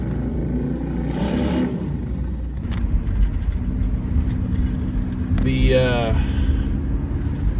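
A car driving along a road in Delhi, with a steady low engine and tyre rumble throughout, a brief passing whoosh early on and another louder swell near the end.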